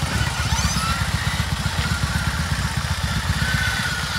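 A heavy BMW R18 cruiser motorcycle, about 350 kilos, creeps backward on its starter motor in reverse gear, giving a steady, close, low pulsing mechanical drone with even rhythm and no voices.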